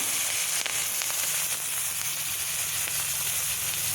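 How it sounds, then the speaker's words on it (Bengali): Garlic and slit green chilies crackle and sizzle in hot oil in a pan, a steady, dense frying hiss that fills the whole stretch with no voices. "এই তেলের মধ্যে এই রসুনটা আমি দিয়ে দেবো তারপরে আমি বাকি জিনিসগুলো দিয়ে দেব দেবো ওই চেরা কাঁচা লঙ্কা"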